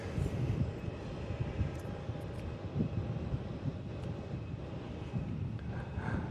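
Jet airliners arriving at Melbourne Airport on a windy day with a southerly crosswind, producing a steady, broad low rumble with wind buffeting the microphone throughout and no voices.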